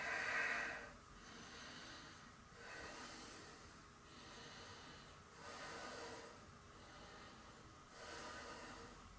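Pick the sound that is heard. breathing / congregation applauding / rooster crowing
breathing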